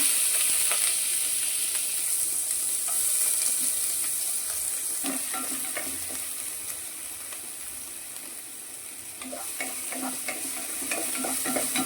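Sliced onions fry in hot oil in a kadai for vegetable Maggi, a steady crackling sizzle with occasional stirring scrapes, close and continuous with no voices.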